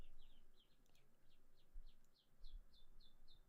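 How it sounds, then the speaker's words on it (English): Small birds outside a window chirp in a regular series of short high tweets, faint and distant, with quiet low rumbles of passing traffic beneath. "There's fucking birds chirping non-stop."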